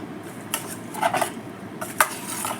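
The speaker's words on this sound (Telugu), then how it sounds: "ఇవన్నీ చికెన్లో వేసేసి మంచిగా మ్యాగ్నేట్ చేసుకోవాలి, అంటే చికెన్ని బాగా కలుపుకోవాలన్నమాట" Chicken being mixed by hand with coriander powder and other spices in a bowl: a few soft clinks and scrapes against the bowl, with brief rubbing and stirring noises at a steady close range.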